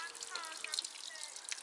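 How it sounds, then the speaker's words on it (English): Small waterfall in a park stream, a quiet continuous splash and trickle with bright droplet sparkles, heard alone at a modest distance. "Just at the waterfall, and"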